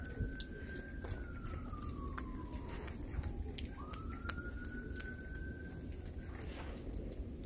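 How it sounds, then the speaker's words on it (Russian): An ambulance siren wails in the distance during Storm Quinn in Somerset, its tone sliding down then rising again, over steady rain-like background noise with scattered birdsong. "Скорая."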